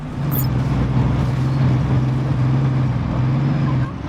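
A truck engine drones steadily and loudly throughout, a constant low rumble from driving in the open-world game Just Cause 3, with no talk over it.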